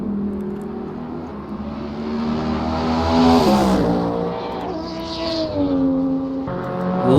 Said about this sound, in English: Love the sound of these cars